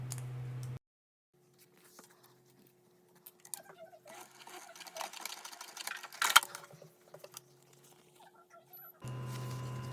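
A sewing machine stitches a crossbody bag's gusset seam with a 1/4 inch seam allowance, giving uneven, rattling bursts of moderate loudness between quieter pauses, with steady tones at the start and end.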